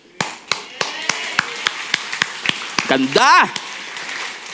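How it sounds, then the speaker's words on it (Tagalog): An audience claps in a scattered rhythm of sharp, separate slaps at a church sermon, with a voice shouting over the claps near the end. "Alam ko kung saan kayo pumalakpak."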